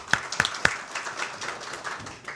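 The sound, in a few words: round of applause for a deputy's birthday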